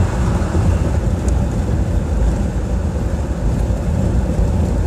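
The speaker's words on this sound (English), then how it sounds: "you can actually hear cars passing by me really fast" Continuous low road and wind rumble inside a car moving at about 70 mph on a highway, with other cars rushing past as a steady roar.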